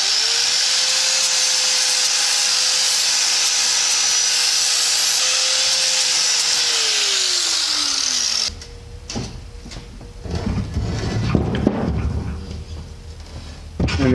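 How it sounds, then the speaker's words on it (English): A power tool whirs steadily while cleaning rust and burrs off a big truck's axle where the spindle rides, its pitch slowing and dropping before it stops. Irregular scraping and rubbing sounds follow. "we're going to clean any rust or burrs from the area where the spindle rides on the axle off."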